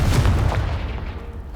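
In the Hogwarts Legacy video game, the Confringo spell hits a pile of debris with a loud, close blast that rumbles out and fades over about a second and a half.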